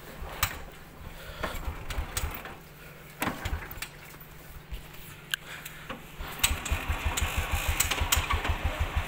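A Bullet motorcycle engine turns over and catches, then settles into a steady, rhythmic thumping idle that grows louder and more regular toward the end, with scattered clicks and knocks along the way.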